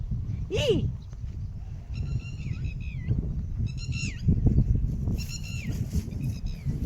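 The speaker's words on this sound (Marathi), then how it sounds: "छान आहे आवाज छान आहे पाखराचा" A bird calls in short bursts of bright, whistled notes, repeated three or four times over a steady rumble of outdoor background noise.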